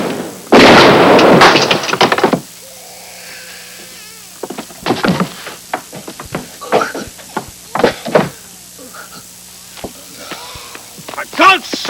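A burst of gunfire from a 1987 film opens the scene loudly, followed by scattered sharp knocks and thumps while voices speak.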